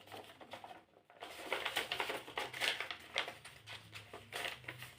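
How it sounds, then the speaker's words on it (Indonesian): A whole sheet of paper is folded into quarters for a math lesson, giving soft, rustling crinkles and brief papery rubs that come and go for several seconds, quiet and close. "kita lipat kertas ini menjadi bentuk pecahan 1/4"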